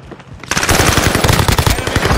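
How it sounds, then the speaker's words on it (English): Rapid automatic gunfire in a shooter video game, a dense loud burst of shots starting after a quiet half second and continuing without break. "Bullets everywhere."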